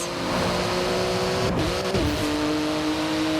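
A Porsche 911 GT2 driven in Forza Horizon 4 roars close and loud, its engine note holding steady, then dipping and climbing again in a quick gear change before settling at a lower pitch.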